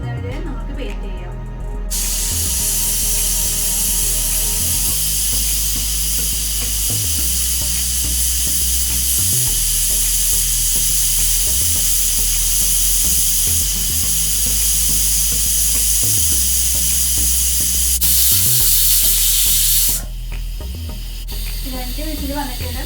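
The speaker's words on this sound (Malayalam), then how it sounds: "വിസിൽ വന്നിട്ടുണ്ട്." A pressure cooker cooking dal hisses with a loud, sustained steam whistle that runs for around twenty seconds, then cuts off abruptly.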